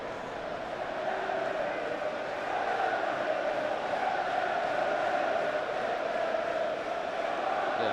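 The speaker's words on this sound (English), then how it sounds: "4-0 to the referees, the shout from the crowd" Middlesbrough football fans in a stadium crowd shout and chant at the referees, a broad sustained roar heard from a distance, steady throughout with only faint talk around.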